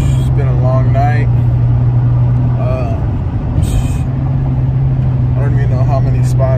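Steady low engine and road rumble from a car driving home at night, continuous throughout, with people talking over it.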